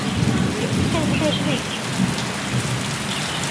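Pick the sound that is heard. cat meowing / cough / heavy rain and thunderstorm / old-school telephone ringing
heavy rain and thunderstorm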